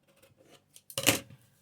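Scissors cut through material for drawer faces: a few faint snips, then one louder close crisp cut that quickly fades.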